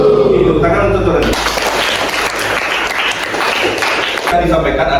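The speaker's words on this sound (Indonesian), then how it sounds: "Tepuk tangan untuk tadi." A classroom of students claps together in a dense burst of applause for classmates during a project-based learning lesson, lasting a few seconds before a teacher's voice resumes.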